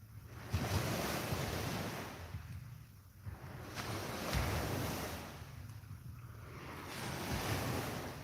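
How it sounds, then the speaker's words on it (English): Sea waves wash up on a shore during sea fishing, slow swelling rushes of surf rising and falling in long cycles, mixed with wind buffeting the microphone. "Sea washing up."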